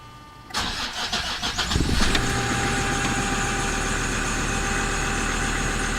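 A car engine cranks for about two seconds, then catches and settles into a steady, loud idle that runs to the end, with no talking.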